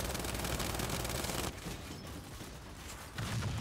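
Rapid gunfire from Gears 5 rattles on loud and dense, easing briefly mid-clip before surging again, with no voices over it.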